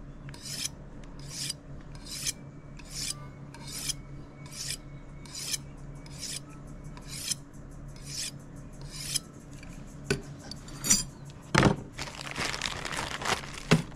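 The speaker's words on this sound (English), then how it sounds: "Just got a few more light swipes." A knife blade is drawn in light, rhythmic swipes along an F.Dick Balkan honing steel, each stroke a short metallic rasp repeating about once a second, close and clear, with a faster flurry of scraping near the end.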